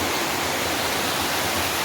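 A hill-forest waterfall in Mayurbhanj gives a steady, dense rush of falling water, even and close, filling the whole short stretch with no voices.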